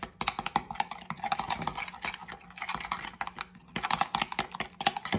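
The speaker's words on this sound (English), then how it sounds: "I should probably get out my whisk." Runny ranch pizza sauce is whisked in a bowl, giving quick, light, irregular clicking and tapping strokes close by, in bursts with brief pauses between them.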